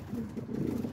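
Kit pigeons coo in a steady, low, throaty burble, close and continuous across a short stretch with no talking.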